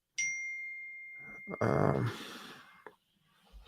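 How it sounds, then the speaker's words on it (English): Phone notification chime: a single bright ding that rings out and decays slowly, followed by rustling and a brief breathy noise, with a faint murmur near the start. "what's that? My phone going off."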